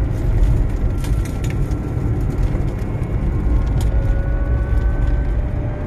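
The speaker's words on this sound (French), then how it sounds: "On va aller faire un tour devant les magasins là-haut pour vous montrer un peu la rapidité du véhicule" A licence-free microcar driving past shops, heard as a steady, loud engine and road drone with a faint rising whine throughout, no voices.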